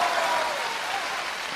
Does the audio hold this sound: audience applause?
yes